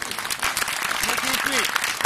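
An audience applauds at a heritage-day theatre performance, steady dense clapping throughout with a few voices calling out over it.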